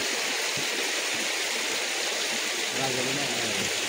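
Water flows steadily down a muddy trekking path at Visapur Fort, a continuous rushing babble close by, with people talking over it.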